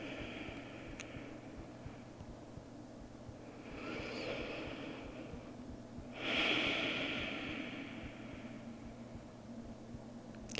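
Slow, deep breaths through the nose held in child's pose during a yoga session, two long soft inhales and exhales close by over a steady hiss of background noise.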